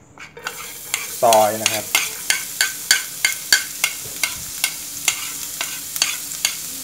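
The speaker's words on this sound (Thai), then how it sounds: "เราตั้ง กระทะให้ร้อนนะครับ ก่อนอื่นเราใส่เป็นหอมใหญ่ครับกับกระเทียม" Chopped onion and garlic fry in a hot pan with a steady sizzle as a spatula strikes the pan in a regular, loud, rhythmic series of clicks; someone speaks briefly near the start.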